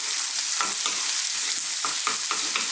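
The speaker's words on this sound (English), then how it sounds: "I'm actually going to add our green beans before the beef. So let's get them in." Green beans stir-fry in a hot pan, a loud, steady close hiss of sizzling with repeated soft tossing and scraping strokes in a rough rhythm, with no talking.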